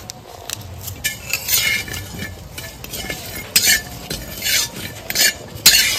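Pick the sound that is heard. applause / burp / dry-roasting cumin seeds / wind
dry-roasting cumin seeds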